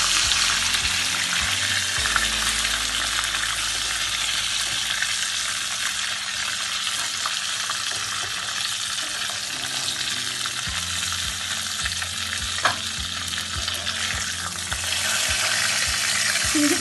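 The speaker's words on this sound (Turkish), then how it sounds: "Bir taraftan yapıyorum, bir taraftan kızarıyorlar." Paçanga börek pastries fry in hot oil with a steady, close sizzle that fills the whole stretch, along with occasional soft bubbling shifts and no voices.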